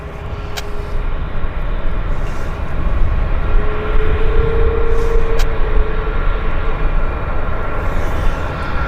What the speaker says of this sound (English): this is our A320 in the Flight 107 from Toronto